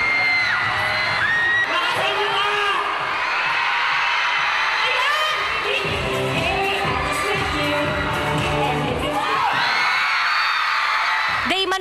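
A large, excited concert crowd at an outdoor Kapamilya Caravan show cheers, whoops and sings along loudly without pause, with children's shouts rising above the mass of voices.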